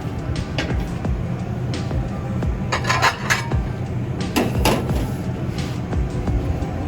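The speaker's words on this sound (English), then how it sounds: "We're going to release them from the pan so we don't overcook." Seared sea scallops being lifted from a hot pan, metal utensil clinks and scrapes over a constant busy kitchen sizzle and hum, with a cluster of sharper clanks in the middle.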